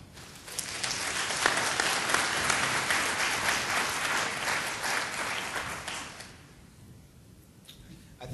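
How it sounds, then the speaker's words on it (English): An audience at a neurology panel discussion claps steadily and loudly for several seconds, the applause thinning out toward the end. "we applaud you for being here"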